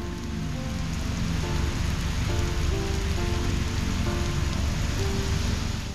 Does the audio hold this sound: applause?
no